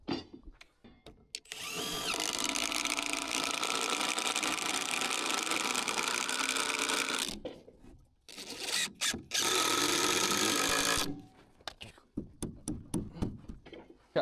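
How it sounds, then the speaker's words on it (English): A power saw cuts through a wooden floor joist during crawlspace framing work, with a loud sustained whine for several seconds, a pause, then a second short burst, followed by shuffling and handling noises. "Cutting our floor joist right now"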